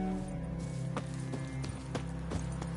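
Hooves of Roach, a horse in a video game, clip-clop at a steady gallop, sharp impacts recurring about every half second over a low continuous game music bed.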